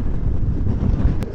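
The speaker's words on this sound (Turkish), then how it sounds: "Şöyle karşıdan ciddi bir rüzgar alıyoruz." A strong headwind buffets a rider on a Voge SR3 motorcycle during a long-distance road trip to Çanakkale. It makes a loud, steady, low roar that runs without a break through the whole clip.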